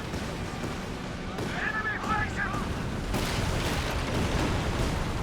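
Land Mattress rocket artillery barrage in Company of Heroes 2, a dense rumbling roar of launches and impacts running continuously, with someone talking over the din.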